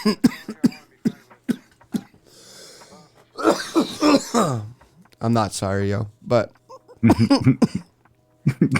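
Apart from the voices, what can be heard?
coughing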